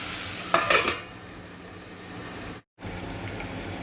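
Capsicum (bell pepper) pieces are stirred and sautéed in a pan, giving a soft, faint sizzle with a short burst of scraping around the first second and a brief cut of silence later.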